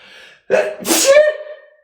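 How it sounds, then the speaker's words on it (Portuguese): A single loud sneeze, a sharp inhaled gasp followed by an explosive burst trailing off into a brief vocal tail, close to the microphone. "Espirrar no meio da gravação?"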